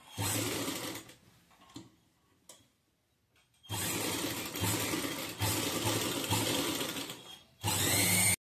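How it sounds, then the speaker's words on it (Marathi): An electric sewing machine stitches around the back neck of a blouse in loud, rapid mechanical bursts. Short runs at first, a near-silent pause, then longer continuous stretches, with no talking. "तर अशा पद्धतीने आपल्याला पूर्ण याला शिलाई टाकून घ्यायची आहे।"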